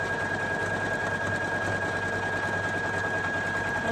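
A Poolin EOC06 embroidery machine stitches in a fast, even mechanical whir with a steady high whine, loud and continuous throughout.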